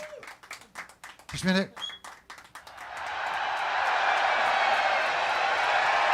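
After a few seconds of talk and clicks, a crowd's applause swells in and holds as a dense, steady roar of clapping, moderately loud and continuous to the end.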